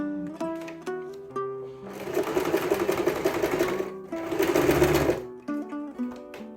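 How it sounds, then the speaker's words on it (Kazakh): A sewing machine stitches along one side of a piece of fabric in two sustained whirring runs, with soft background music before, between and after them. "Енді мен мына көздің бір жағын тігіп аламын."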